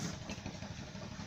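Small engine driving a water pump at a sago processing mill in Pulau Kandang, Kluet Selatan, running with a steady, close idling rumble and faint clatter, with no voices.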